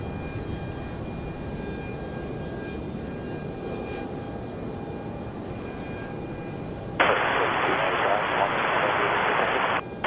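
Aircraft engines roar at Charlotte Douglas International Airport on a windy day while a person talks. A loud broadband jet rush joins near the end and holds for a few seconds.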